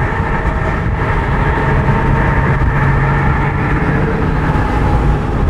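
A 2001 Honda S2000 AP1 with its six-speed gearbox drones steadily from inside the cabin, a loud, even engine hum with road noise that holds constant and never revs noticeably.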